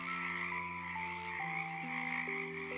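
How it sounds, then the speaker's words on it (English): A small green frog croaks beside a puddle, a single ribbit-like call heard alone over a bed of sustained musical tones, fairly clear and close. "A tiny green frog sitting beside a puddle. The frog blinked. Ribbit."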